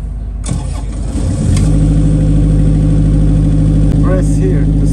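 A computerized welding generator's engine cranks and catches, settling into a loud, steady idle close by, with a brief beeping tone near the end.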